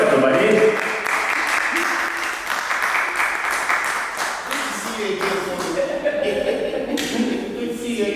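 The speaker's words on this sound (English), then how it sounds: "A round of applause, everybody." Audience applause at a university event in London fills the room, steady and fairly loud clapping from a sizeable crowd that swells briefly and then carries on evenly.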